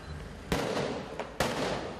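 Two sharp fireworks bangs thrown by protesters at police during a street clash with burning barricades in Okmeydanı, Istanbul, spaced about a second apart over a steady crowd and street rumble.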